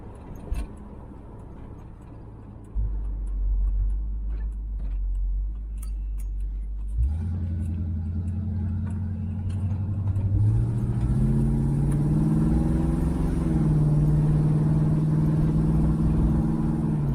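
A 1970 Oldsmobile Cutlass convertible's engine rumbles at a steady idle, then pulls away with a rising, revving drone as it accelerates, loud and close with no talking.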